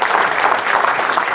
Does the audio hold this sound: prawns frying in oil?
no